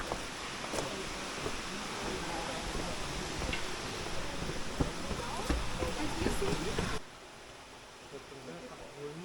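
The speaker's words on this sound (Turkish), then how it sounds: "Gerçekten büyük bir şelale." Steady broadband rushing of a large waterfall, constant and full, abruptly dropping to a quieter hiss near the end.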